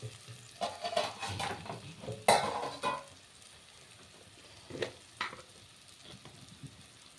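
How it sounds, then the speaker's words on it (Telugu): Tomato frying in a pan with coriander-cumin powder and chili stirred in. A spoon scrapes and clinks against the pan in irregular bursts over a soft, steady sizzle, and one sharp knock lands partway through. "ధనియాల జీలకర్ర పొడి ఇది కూడా కొంచెం సేపు పట్టేంత వరకే ఫ్రై చేస్తాం"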